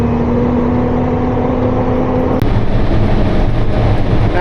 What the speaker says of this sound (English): This is a skidgen. It's a log skidder turned into a fire engine.